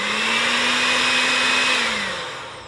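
Electric mixer whirring loudly and steadily as it beats eggs for walnut cookie dough, a close continuous motor drone that winds down at the end.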